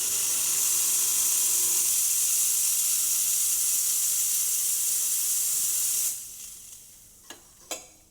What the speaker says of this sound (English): And then there's also steam.